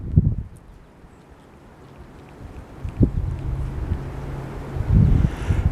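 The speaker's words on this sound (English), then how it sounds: "Oh yeah, that's the wind." Strong wind gusts buffet the microphone in low, roaring rushes that swell and ease, loudest near the start and end.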